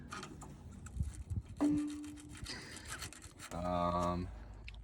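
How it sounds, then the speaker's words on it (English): Sandpaper rubs on the ignition points of a 1970s VW sand rail engine, giving short scratchy strokes of rasping friction. Brief tonal squeaks and clatter come in between, and some background noise sits underneath. "I'm trying to wiggle some sandpaper down here so we can clean these points"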